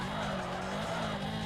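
Tires skid and squeal as the handbrake is yanked on a car in Need for Speed: Underground 2, a steady, dense screech with engine roar underneath, loud and continuous.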